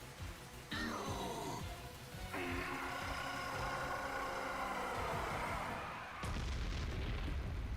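A video game explosion from Sonic x Shadow Generations: a heavy booming blast swells into a long rumble layered with sweeping tones, then a sharp second crash near the end, loud and with no speech.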